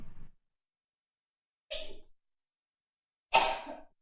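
Three short, separate sneeze-like bursts come from a person in a casual gaming chat, each brief and sharp, with long silences between and the last one loudest.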